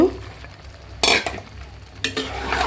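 Papaya, carrots and long beans fry in a pan with a steady sizzle, broken by two sharp scraping bursts of stirring about a second apart.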